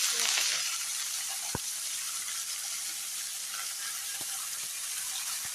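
Banana stem cooks in a pan with a continuous soft hiss of frying, with a few faint knocks of a spoon as it is stirred, quiet and steady.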